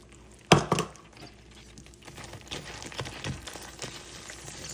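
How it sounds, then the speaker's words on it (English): Raw peanuts stirred into thick candy syrup in a cast iron skillet for peanut brittle, a sharp clunk and then soft, sticky scraping and shuffling strokes, close and fairly quiet. "Stir them around, they're kind of thick, so just have to be careful."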